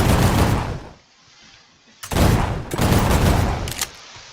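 Full-auto gunfire from a Type 62 gun in the Minecraft Create mod, sounding as loud dense bursts of rapid shots separated by a brief quiet gap, with no talking.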